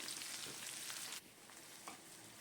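Onions sizzling and frying in a pan for a Bengali chicken kasha, a steady broadband hiss that drops somewhat in level partway through, with no voices.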